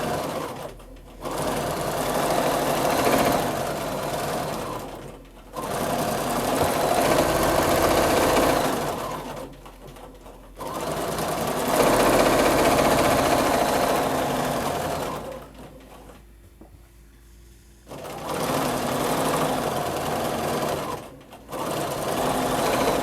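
A sewing machine runs in sustained bursts of rapid stitching during free motion quilting of echo designs, each run lasting several seconds, stopping briefly between passes, close and steady.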